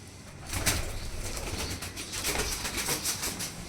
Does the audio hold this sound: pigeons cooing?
yes